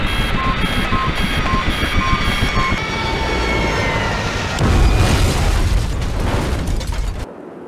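A stricken helicopter goes down in the video game Project I.G.I., its alarm beeping over a roaring engine before a loud, heavy crash boom, after which the sound cuts off abruptly.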